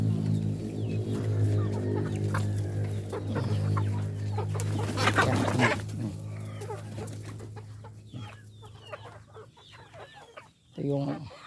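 Four-month-old Rhode Island Red chickens cluck and murmur in a flock of sixteen in a netted pen, steady close clucking with a few louder calls, a person talking now and then over a low background hum.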